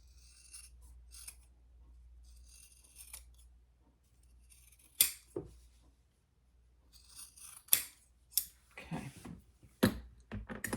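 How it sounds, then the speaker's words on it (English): Scissors trim fabric around the curves of a sewn piece, making soft, close snipping and rasping cuts in irregular bursts with pauses between, fairly quiet, no voices. "I'm going to just trim it just a little. Especially on the curves."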